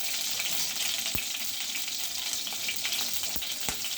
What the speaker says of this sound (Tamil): எண்ணெய் ஊற்றி அடுப்பத்தை வச்சு வடைச்சட்டி வச்சு எண்ணெய் ஊற்றி கடுகு போட்டு